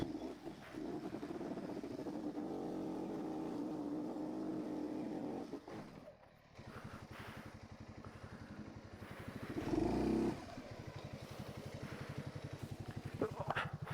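A vehicle engine laboring and revving on a steep hill, a low throbbing drone that dips briefly and then surges louder, close by, with faint voices in the background.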